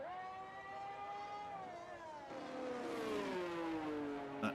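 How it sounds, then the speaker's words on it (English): Racing cars pull out of the pits in an F1 video game at the Spanish round, engines whining and climbing in pitch as they accelerate, fairly faint and smooth with no voices over them. "couple more cars leaving the pits."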